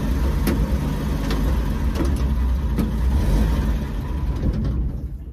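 A 1953 Chevy truck engine idles and runs steadily up close, a continuous low rumble with a few sharp clicks on top, tapering off near the end.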